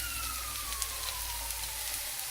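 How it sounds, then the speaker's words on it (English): Emergency vehicle sirens wail outside, a faint rising and falling tone drifting over a steady background hiss, distant and continuous with no talking. "Listen to those sirens."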